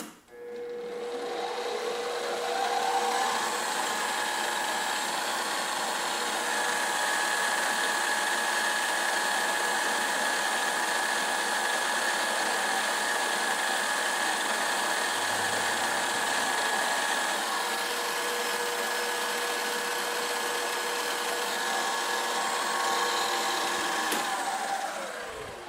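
A machine in a machine shop making parts for a model engine runs continuously for the whole stretch, a steady, loud whirring drone with a sustained pitched whine that starts and stops at the ends.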